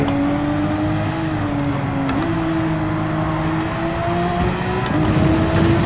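Ferrari race car engine in Gran Turismo 7, a loud, steady close-up drone whose pitch climbs through each gear and drops sharply at two upshifts, with no voices over it.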